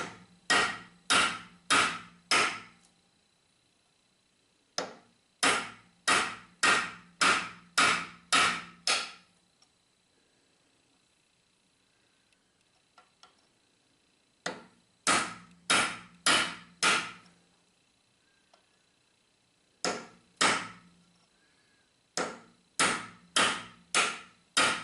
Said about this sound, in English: now I'm going to use this cold chisel just to spread this end